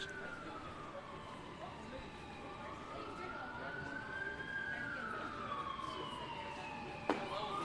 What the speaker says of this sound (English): Not the strikeout of Puckett, but the siren.